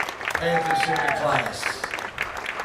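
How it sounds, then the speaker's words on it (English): A gym crowd at a Navarro Panthers boys varsity basketball final home game applauds the senior players, scattered clapping under someone speaking over the public address, loudest early and thinning toward the end. "A round of applause for this year's"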